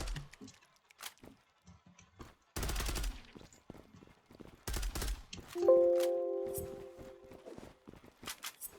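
Gunfire in the Zula online shooter: two bursts of rapid automatic fire separated by scattered single shots and footsteps, followed by a sustained electronic tone, with no one talking.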